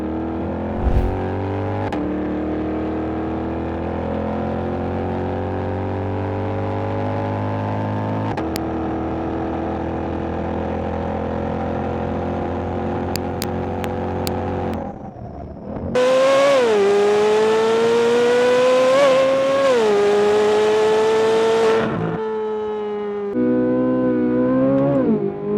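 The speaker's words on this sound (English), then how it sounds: "let's listen to the sounds again of the Stingray and the Z06" Chevrolet Corvette C8 Stingray and Z06 engines roar on a race track, revving hard through upshifts with rising and falling pitch, loud and sustained, a brief lull separating the two cars' runs.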